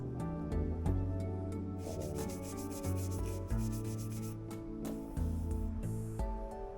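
Turned wood on a lathe being finished with an abrasive mat, a steady close rubbing hiss with pulsing ringing tones from the spinning work, fairly quiet and alone.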